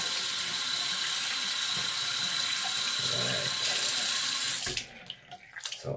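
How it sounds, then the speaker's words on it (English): Cold tap water runs from a faucet over a shaving brush, a steady close rush that stops abruptly near the end, leaving brief faint handling clicks. "run my brush under some cold tap water."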